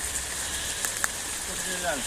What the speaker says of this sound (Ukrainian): Але дивіться, який дощ падає